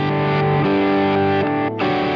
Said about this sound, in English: It wants to be this messy reverb thing sitting under your playing like this.